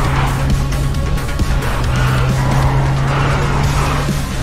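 A car being driven hard in the video game Road 96, a loud, steady engine drone with rough tire and road noise that runs unbroken throughout, no talk over it.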